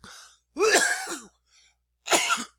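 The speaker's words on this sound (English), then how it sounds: "I just coughed." Two harsh coughs, close and loud, separated by a short pause with a faint throat noise between them.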